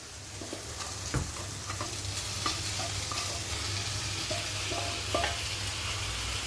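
Paneer sizzles and fries in a pan with a little soy sauce, a steady hiss of hot oil broken by a few sharp clicks and scrapes of stirring, close and continuous with no talking.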